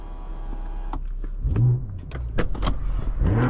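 A low electric motor hum runs as the power-operated sunroof sunshade of a 2022 BMW M440i slides, followed by a series of clicks and clunks from the mechanism.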